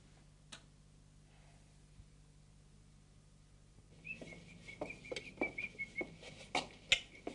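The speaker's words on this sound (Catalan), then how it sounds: "És algú que xiula pujant l'escala." A person whistles a steady tune while climbing a stairway, joined partway through by sharp footstep knocks that grow closer and louder, after a quiet indoor stretch.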